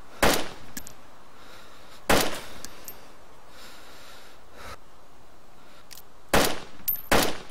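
Several sharp, loud gunshots crack in a zombie survival shooter game, some single and some in quick pairs, spaced irregularly over a low background hum.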